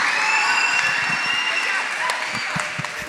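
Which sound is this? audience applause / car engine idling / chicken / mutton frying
audience applause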